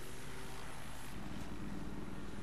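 A helicopter in the Battlefield 3 video game, a dense continuous rotor and engine roar with a steady low thrumming beat, loud and close throughout.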